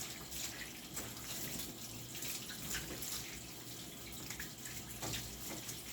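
Tap water sprays and splashes steadily over a puppy named Lillah during her bath, a constant hissing wash with small splatters, close and fairly quiet with no talking.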